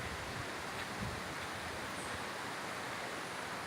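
A waterfall at the Cedae reservoir dam in Piabetá, Rio de Janeiro, gives a continuous, even roar of rushing water, with no voices heard.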